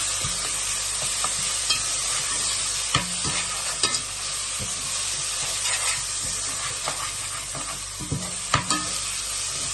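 Ginger and garlic fry in a pan for lamb biryani, a constant close sizzle broken by scraping stirs and light clinks of a utensil, with no talk.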